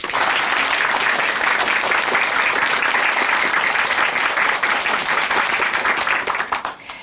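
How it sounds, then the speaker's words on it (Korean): An audience at a church testimony broadcast gives a dense, continuous round of applause, loud and even for several seconds before tapering off at the end. "다시 한번 박수 부탁드립니다."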